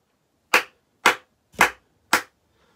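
Four crisp hand claps at a steady pace, near and distinct, each followed by a brief quiet gap.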